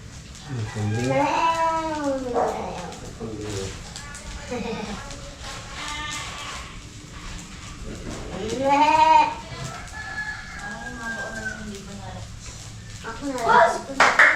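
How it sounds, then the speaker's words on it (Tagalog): A goat bleats several times in wavering, drawn-out cries spread across the stretch, close by, with people's voices and other farmyard sounds mixed in. "Yun ang kambing ko."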